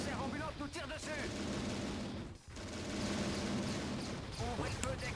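Rapid gunfire bursts and shots ring out in a Transformers Decepticon game, dense and loud, mixed with game noise and a voice speaking over it.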